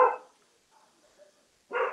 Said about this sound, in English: Here or at your house that the dogs are barking at?